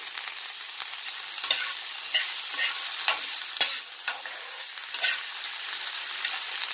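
Boiled chickpeas stirred in a hot pan for banana chaat, a close, steady sizzle with repeated scraping strokes and light clacks of the spoon against the pan, no voices.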